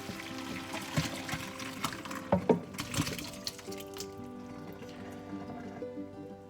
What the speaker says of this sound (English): Next, we are going to drain the potatoes, and I have this colander right here.